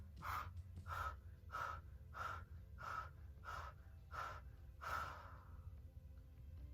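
About nine quick, sharp breaths repeat in an even rhythm during a breathing exercise, each one short and breathy, close and fairly quiet over a low background hum.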